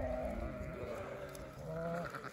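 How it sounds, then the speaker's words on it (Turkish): Sheep and a small lamb bleating outdoors on a farm in spring, a couple of close, wavering bleats filling the short moment, fairly quiet overall. "Şu küçük kuzu geldi bizimle."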